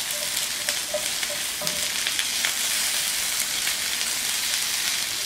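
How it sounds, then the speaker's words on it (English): Food sauteing in olive oil in a pan, a dense steady sizzle and crackle throughout with a few faint clinks, no talking. "I did put a little olive oil in here. You just want to saute these a little bit."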